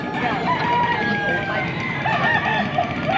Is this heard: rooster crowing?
yes